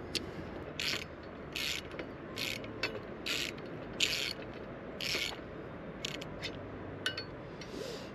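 A ratchet tightens the lower crash bar bolts on a BMW R1300GS motorcycle, giving bursts of rapid close clicking, about eight short runs in steady rhythm with brief pauses between.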